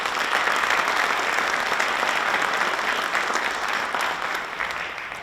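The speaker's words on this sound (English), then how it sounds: "So let's give John and Chris a round of applause." Sustained applause from an audience at a university Founders Day event, steady dense clapping that holds loud throughout and eases slightly at the end.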